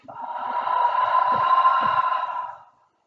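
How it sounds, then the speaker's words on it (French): One long, slow, steady exhale lasting a few seconds during a rhythmic breathing exercise, close and fairly loud, with a soft start and a gradual fade. "J'inspire sur 3, j'expire sur 6."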